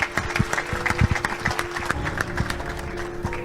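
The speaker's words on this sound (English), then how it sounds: "Give him a round of applause, please." An audience at a community event applauds, steady clapping with a few louder claps, continuous and fairly close, no voices over it.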